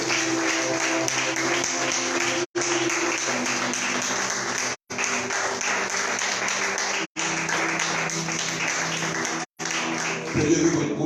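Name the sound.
audience applauding and cheering at a religious conference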